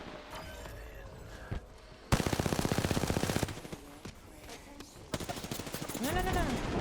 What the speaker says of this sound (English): Oh, this submachine gun is really good. It's a light machine gun.